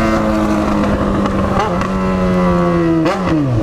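A Yamaha XJ6 motorcycle revs hard and close, its engine tone climbing and dropping in a few sharp throttle blips, loud and alone with no talk.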